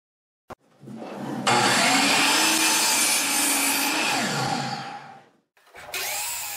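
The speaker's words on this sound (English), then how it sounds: "I began the project by cutting the top and bottom rails along with two shorter side rails" Handsaw cutting wooden top, bottom and side rails for a cover over a 44 by 62 inch egress window opening, a steady rasping stroke run after a brief knock, pausing then resuming, close and fairly loud.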